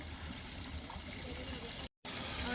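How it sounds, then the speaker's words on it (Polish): Scalding hot spring water in the Azores rushes steadily through culverts, a constant close gurgling flow with one brief dropout. "Tu normalnie wrzątek leci."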